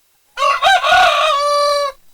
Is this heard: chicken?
yes